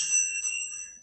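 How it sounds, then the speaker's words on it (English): A small pet rings a bell in its cage, a single bright metallic ring that sustains and fades over about a second. "the baby is ringing the bell at me"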